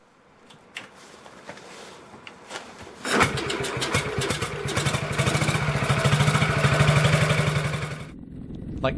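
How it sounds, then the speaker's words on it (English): A 1960 Panther motorcycle with electronic ignition fires up after a few quiet clicks, its single-cylinder engine thumping into a loud, close, rhythmic idle that rises and then cuts off abruptly. "my bike has, wait for it, electronic ignition, so it starts right up with no trouble"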